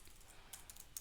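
Light clatter of typing on a non-mechanical computer keyboard, quiet and close, with a few sharper keystrokes in quick bursts and no talking.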